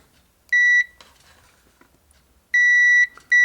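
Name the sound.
multimeter continuity tester beeping on a model train wiper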